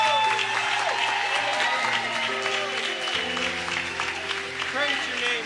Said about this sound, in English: Let's give God an incredible round of applause.